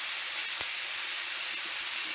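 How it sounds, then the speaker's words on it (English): Korean BBQ galbi beef short ribs sizzle on the grill with a steady, bright hiss that holds for the whole stretch, broken by a soft tap or two. "Can you hear the sizzle?"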